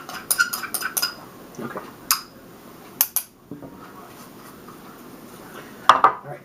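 Metal spoon scraping and clinking against a mixing bowl while ground incense is transferred, irregular sharp taps and scrapes close by with quiet gaps between, a brief spoken word in the middle.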